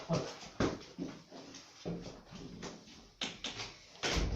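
Indoors, a dog whimpers and yips in short, uneven bursts, close to the listener, with some thumping and shuffling between the cries and no talking.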